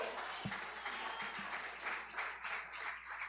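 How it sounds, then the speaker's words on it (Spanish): A church congregation applauding during a service, a faint, distant patter of clapping that pulses in waves, with one sharper close knock early on. "Denle un aplauso a Dios."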